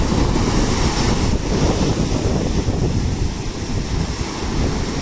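Rising ocean waves roar steadily at close range, a dense continuous wash of surf with heavy wind buffeting the microphone and no voices.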